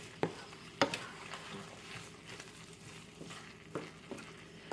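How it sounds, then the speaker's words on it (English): A spoon stirs squash, black bean and rice burrito filling in a hot pan, soft scraping and light sizzling with a few sharper knocks against the pan, quiet and close. "And then I'm just going to start to kind of just mix it all around"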